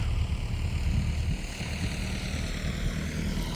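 A tractor engine runs steadily on a potato farm during potato digging, a continuous low rumbling drone with no breaks, fairly close and alone without voices.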